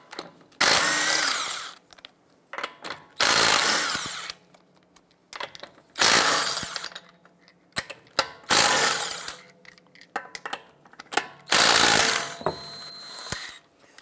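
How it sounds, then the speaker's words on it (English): A power tool with a 22 mm socket spins lug nuts off a Honda Pilot wheel in five loud, close bursts of a few seconds each, with quiet clicks and clanks between them. "we're going to go ahead and remove the lug nuts."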